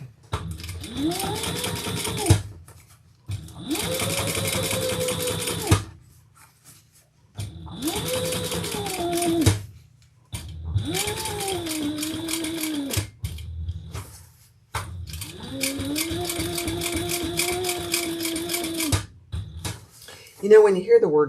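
A sewing machine stitches through a denim waist pack with a needle in need of changing, running in several sustained whirring bursts of a few seconds each with short pauses between, close and steady, while someone talks in the breaks.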